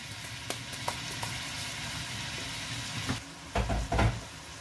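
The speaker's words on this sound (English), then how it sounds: "we want to add garlic" Garlic added to frying rice sizzles in a steady low hiss, broken by sharp clicks and clatters of utensils and a few heavier knocks toward the end, with no talk.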